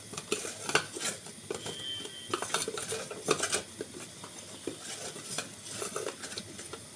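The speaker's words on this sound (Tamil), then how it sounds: "கொஞ்சோண்டு அரிசி மாவு, காரத்துக்கு மிளகாய் பொடி போட்டு நல்லா மிக்ஸ் பண்ணி" A utensil stirs rice flour and chili powder in a bowl for a bitter gourd dish, giving repeated close scraping and clinking against the bowl in an irregular rhythm.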